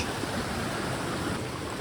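Waterfall stream at a nature preserve rushing steadily, a dense, constant wash of flowing water heard up close with no talk.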